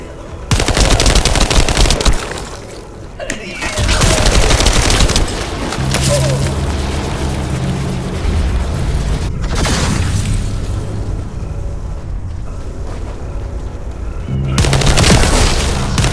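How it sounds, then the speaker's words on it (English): Turret gunfire in the sci-fi shooter game The First Descendant: sustained, heavy automatic fire with booming impacts, loud and close, running almost continuously with a few short breaks. "I'll operate turrets to keep the surrounding area secure"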